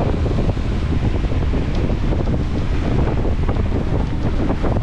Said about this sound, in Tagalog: pero hangin lang malakas yung alon kasi habagat